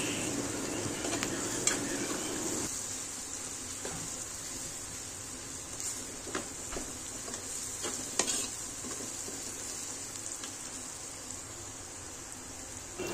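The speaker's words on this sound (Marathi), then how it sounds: "आणि थोडीशी मिरची पावडर, 1 चमचा धनिया पावडर आणि आता आपण ते चांगलं परतून घेऊया।" Greens sauté in a pan with chili powder and coriander powder, giving a constant bright sizzle with occasional scraping stirs and clinks, loud at first and easing slightly, without any talk.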